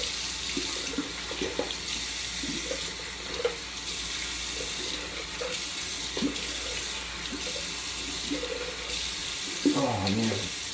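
Tap water runs steadily into a bathroom sink during face washing, a continuous splashing flow with hand splashes and small knocks, and a brief voice near the end.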